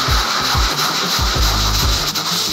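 A brush scrubs a rug lathered with laundry detergent foam in quick, loud rhythmic strokes, close up and with no talking.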